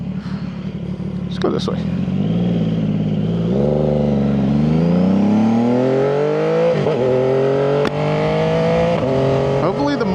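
A Triumph 675SS fitted with a full IXIL exhaust rides off, its engine revving up through rising, rasping pitch changes close by, with someone talking briefly over the start.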